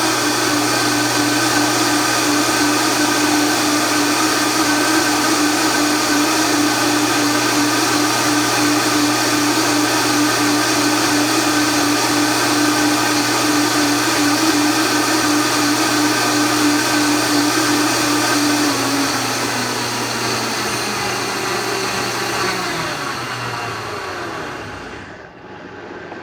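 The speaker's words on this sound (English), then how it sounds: "So I want this to get all the nuts to really get blended up." A countertop blender grinds nuts into a sauce with a loud, continuous high-pitched whir that runs steadily for about twenty seconds before the motor winds down and stops, with no talking.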